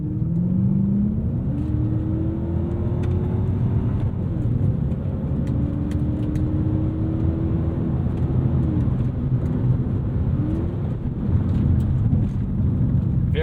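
A naturally aspirated V8 in a 2001 Lexus GS 430 pulls hard and loud, its engine note climbing smoothly through rising revs, dipping at upshifts and climbing again, with a steady road rumble underneath.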